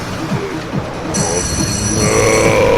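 Telephone bell starting partway through, a continuous bright ringing that rises over a loud, rumbling mechanical background.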